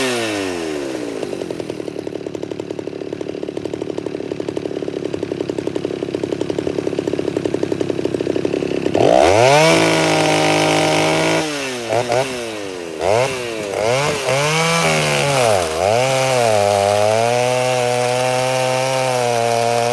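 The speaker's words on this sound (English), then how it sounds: "So now I can actually rev it because it's got a bar and chain on it." Chainsaw fitted with bar and chain, idling steadily at first, then revved hard several times in rising and falling surges, loud and close, with no talking.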